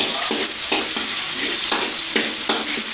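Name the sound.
garlic and onion frying in a hot pan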